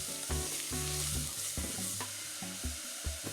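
Minced pork sizzling in a pan, a continuous frying crackle with repeated scraping and stirring strokes of a utensil, close and clear.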